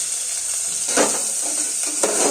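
Onion and meat frying together in a pan for soup, a steady high hiss of sizzling throughout with a couple of brief louder stirring bursts, close by and without any talk.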